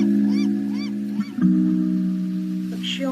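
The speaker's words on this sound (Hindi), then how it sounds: "पक्षियों की आवाजें" Honking goose-like bird calls in a meditation soundscape, about four repeated calls, then a longer call near the end, all over a steady droning tone.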